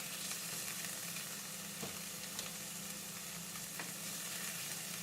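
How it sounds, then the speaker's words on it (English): Pork browns steadily in a hot pan for fried rice, a constant crackling hiss with occasional louder pops, no voices. "once it starts sizzling and looking pretty good"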